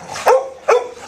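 Dogs bark twice in a small indoor room, two loud close barks about half a second apart, with quiet room tone between.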